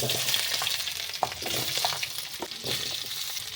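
Potatoes frying in oil tempered with cardamom and whole cumin for vegetable khichuri, a continuous bright sizzle with occasional soft knocks and stirs of a spatula, close and steady throughout.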